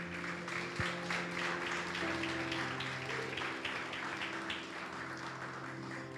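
A church congregation applauds during a sermon, a steady mass of clapping at moderate level running the whole stretch, with a low hum and a brief thump underneath.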